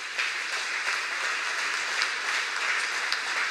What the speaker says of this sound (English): I'm just not used to this applause